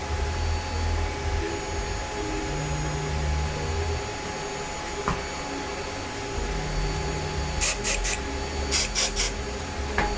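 Short bursts of hissing spray from a nearly empty can of glue accelerator used on a diorama model, coming in quick puffs near the end over a steady hum of background noise.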